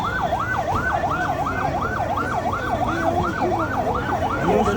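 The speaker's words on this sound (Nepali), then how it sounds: "दमकल चाहिँ भने आइसकेको छ।" Fire engine siren wailing in a steady, repeating up-and-down cycle at a large fire near Pahelo Pul, Nayabasti, Kathmandu, loud and close over a dense rumble of traffic and crowd noise.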